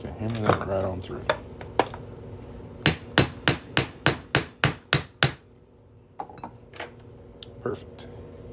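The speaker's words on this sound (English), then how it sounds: "we're just going to hammer that right on through" Hammer blows driving a metal punch through a quarter coin: a quick run of about eight sharp, ringing metallic strikes at an even rhythm, preceded and followed by scattered clinks and taps of tools.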